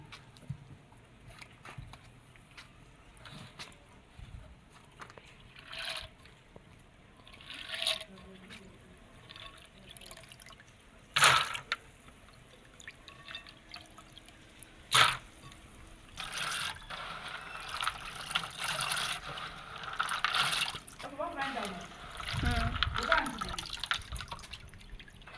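Raw groundnuts being washed by hand in a bowl of water, with intermittent sloshing, dripping and splashing, some louder bursts, and a few brief sounds of a person nearby.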